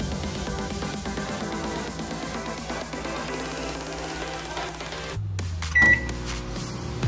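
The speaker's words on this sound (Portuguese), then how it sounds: "Que aí agora o micro-ondas faz a parte." A microwave oven baking an orange cake hums steadily and fairly loudly, then cuts off and sounds a short, bright beep before the hum resumes.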